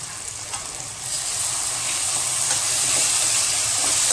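A ginger, garlic, chili and coriander paste sautés with onion and tomato in a pan, giving a continuous hissing sizzle that swells after the first second and holds steady, close and fairly loud, with no one speaking.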